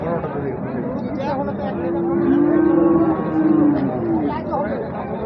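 A bull at a cattle farm in Munshiganj gives a long, drawn-out low moo in the middle of the stretch, while people talk nearby throughout.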